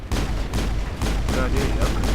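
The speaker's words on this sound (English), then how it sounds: "Yeah, you're doing some damage with the pistol." Pistol fire in the Mass Effect video game: a string of about five sharp, loud shots at an uneven pace over a steady low rumble of in-game noise.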